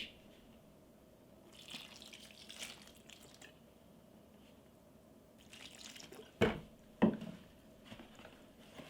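Water trickles gradually into a fireclay flour mixture being mixed as mortar for restoring an old Smederevac wood stove. Faint, quiet pouring, with two sharper splashes near the end and no talk.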